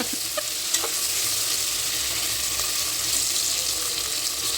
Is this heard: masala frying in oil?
yes